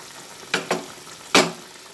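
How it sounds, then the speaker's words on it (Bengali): Fried pointed gourd is stirred into a simmering curry broth in a pan: three quick scraping, sizzling strokes, two close together then one after a pause, close and clear over a low bubbling background. "ভালোভাবে নাড়াচাড়া করে"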